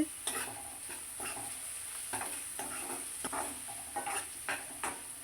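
Boiled ivy gourd pieces being stirred with salt and turmeric in a pan, soft rhythmic scraping strokes repeating every half second or so over a faint steady sizzle, close and quiet.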